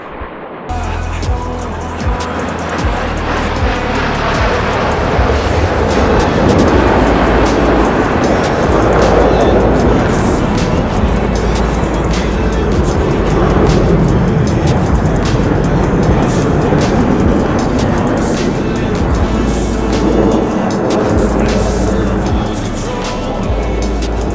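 Blue Angels jets roaring through a barrel roll break with individual break turns in DCS World, a loud, sustained, broadband jet rumble that swells and holds throughout.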